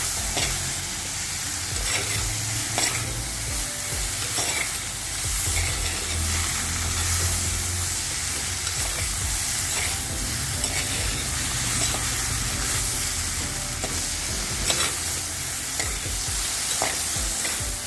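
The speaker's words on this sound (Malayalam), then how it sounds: "രണ്ട് മിനിറ്റ് കൈയെടുക്കാതെ ഇളക്കി കൊടുത്ത് ഫ്ലെയിം ഇട്ടാൽ ഈ വെണ്ടയ്ക്കയുടെ ആ വഴുവഴുപ്പൊക്കെ നമുക്ക് മാറിക്കിട്ടും" Okra for a vendakka curry sizzles steadily in a hot pan while being stirred without pause over the flame, with frequent spoon scrapes and knocks against the pan over the constant frying hiss.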